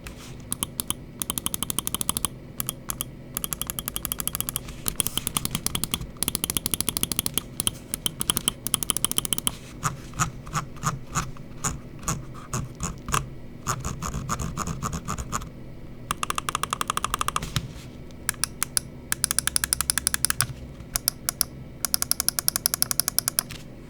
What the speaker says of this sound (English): let's go ahead and drop the click quality sound check